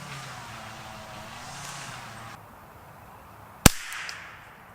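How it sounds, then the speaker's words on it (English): A single sharp rifle shot with CCI Standard Velocity rounds at a long-range shooting setting cracks out loudly once, followed by a brief echoing tail over quiet outdoor background noise. "So I'm going to hold a little high and shoot my group."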